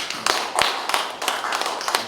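Brief scattered clapping from a lecture audience after a special talk, a thin patter of hand claps close by rather than a full ovation.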